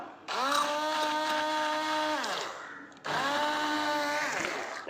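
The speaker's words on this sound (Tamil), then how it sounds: "இது நல்லா திக்காகிற அளவுக்கு நம்ம நல்லா பிளெண்ட் பண்ணிக்கலாம்" An electric blender whips cream for vanilla cake frosting, with two steady whirring runs of about two seconds each. The pitch droops as each run ends, and the sound is moderately loud and close.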